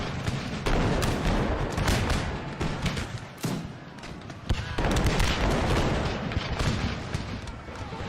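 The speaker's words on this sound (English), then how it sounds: "The Highlanders decide to hold off and rely on musket fire to blow the French off the battlefield" Massed musket volleys from French line infantry and Highlanders in a tabletop Napoleonic wargame battle of 1809, heard as a dense, continuous barrage of overlapping booming shots and thuds with no clear gaps between them.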